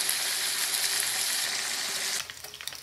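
A dorado fish steak fries in a pan with a loud, continuous hiss and sizzle, which drops off abruptly near the end into softer, sputtering crackles, no talk.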